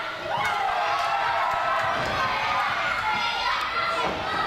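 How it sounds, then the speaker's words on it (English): Crowd at an indoor women's wrestling championship event cheering steadily for the champion, a loud continuous roar with high-pitched shouts and occasional thuds from the ring. "the crowd firmly behind the champion"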